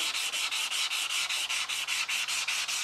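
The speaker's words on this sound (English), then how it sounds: "Sanding. Seems to be a lot of this that goes on with knife making" Steady rhythmic rasping of sanding, quick back-and-forth strokes scraping metal, close and continuous with no voices.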